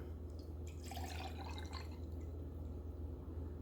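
Melted lard poured into a glass jar, a soft liquid trickle and drip with faint glassy splashes, low and steady over a constant low hum, no talk.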